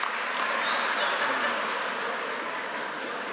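An audience claps at an energy company training event, a steady wash of applause that holds at an even level for about three seconds without tapering.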